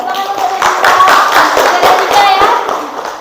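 A class of children applauds together, with a quick burst of clapping lasting a few seconds, bright and close, mixed with a few young voices calling out.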